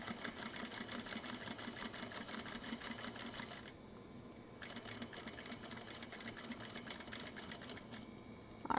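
A sewing machine back stitches a small zippered petal pouch seam at an eighth-inch allowance, its rapid needle chatter running steadily, stopping briefly near the middle, then resuming at an even pace.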